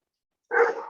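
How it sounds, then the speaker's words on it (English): Several dogs excited at their lunchtime let out a short, loud burst of barking that starts abruptly after a moment of silence, indoors during a home stretching session. "I apologize for my dogs."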